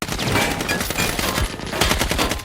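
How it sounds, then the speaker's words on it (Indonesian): Rapid bursts of automatic gunfire in a film action scene, loud and dense, with shots overlapping in quick succession throughout. "Tiba-tiba Nina terkena tembakan di lengannya."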